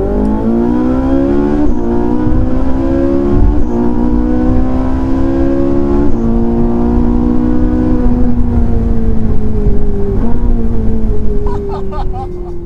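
Ferrari 458 Italia engine accelerating on the road, a loud, sustained near rising drone with steadily climbing pitch and brief gear-change dips, continuous throughout with no talk.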